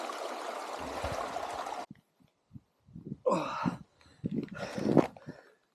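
Water trickling and splashing from a mountain stream in the Swiss Alps as it is collected, a steady flowing wash for the first two seconds, then quieter scattered splashes, rustles and bumps nearby.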